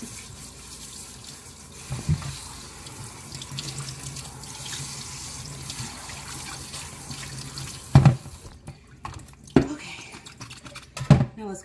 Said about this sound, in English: Wash your vegetables, getting them washed before we cut them.